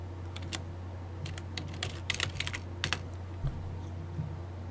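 Computer keyboard typing in fast irregular bursts of sharp clicks, fairly close, over a steady low electrical hum with no talking.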